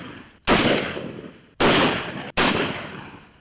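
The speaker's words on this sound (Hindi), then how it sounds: "ये नजारा फायरिंग रेंज पर प्रशिक्षण का है।" Three loud, sharp gunshots ring out one after another on a paramilitary training firing range, each followed by a decaying echo, with gaps of about a second between them.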